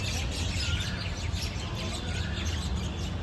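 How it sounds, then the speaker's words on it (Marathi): Various birds call among trees near a flight of steps in Pune, faint chirps and tweets scattered over a steady broadband background hiss, with no talking. "इथे एक चांगलं आहे झाडं असल्यामुळे पक्ष्यांचे वेगवेगळे आवाज येतात."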